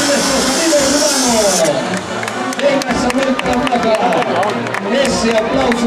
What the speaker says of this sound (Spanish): Ese aplauso del público.